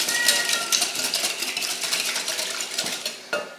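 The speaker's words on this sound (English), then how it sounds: "and give this a whisk" Batter for a 1950s-style peach cobbler whisked briskly in a bowl, a steady run of fast metallic clinks and scrapes close by with no talking.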